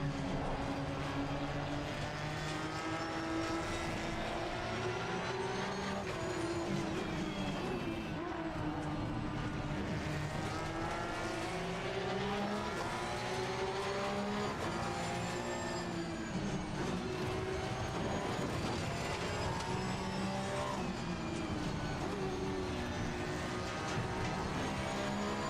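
Race car engines in Assetto Corsa Competizione on the Nordschleife circuit, a continuous loud engine drone with climbing and falling pitch through gear changes, sustained for the whole stretch without a break.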